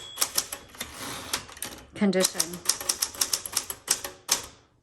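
Typing on a 1967 Super Sterling manual typewriter: a quick run of crisp key strikes with uneven rhythm and a short mechanical ratchet near the middle, while a person speaks briefly over the clatter.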